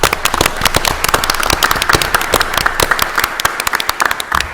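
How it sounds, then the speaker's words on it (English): A round of applause at a school board of education meeting: dense, close, loud clapping from many hands, sustained throughout with sharp individual claps standing out. "one more round of applause"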